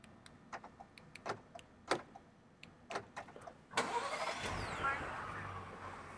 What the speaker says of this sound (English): One of the things I mentioned we add the remote start. So we can turn the vehicle on remotely.